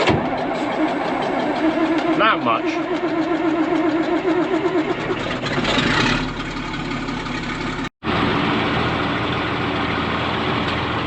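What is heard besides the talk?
tractor engine starting and idling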